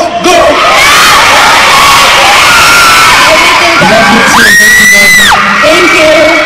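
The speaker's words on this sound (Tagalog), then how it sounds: "Pwede ba lahat tayo sa sigaw ng We Love You, Shadeen?" Large mall-show crowd shouting a chant together in unison, loud and close, with sustained cheering and yelling that swells into a long held collective shout before fading back into crowd noise.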